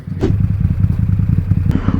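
A Can-Am side-by-side with a weighted crankshaft and aftermarket exhaust revs loudly during a short launch up a driveway, a steady throbbing engine rumble with a brief clatter near the start and end.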